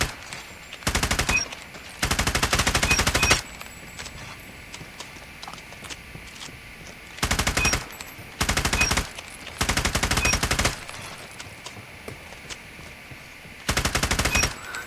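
Bursts of AGR 556 submachine gun fire in a video game, several rapid automatic volleys of varying length separated by quiet gaps, loud and close with no talking.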